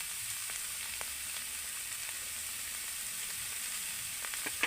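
Spiced potato filling with salt, turmeric and cumin frying in a pan, a constant hissing sizzle with faint scrapes of stirring, quiet and close, with no voices.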